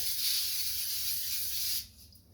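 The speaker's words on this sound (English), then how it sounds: "And what I do is I spray on the inside." A steady aerosol hiss of cooking spray sprayed onto the inside of foil for nearly two seconds, then it stops abruptly, leaving quiet room tone.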